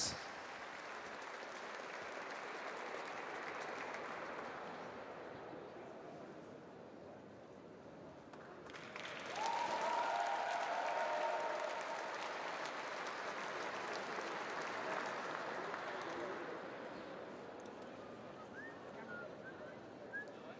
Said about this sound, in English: a huge applause for the Paraclimbing Cup Edinburgh 2017 Women's RP3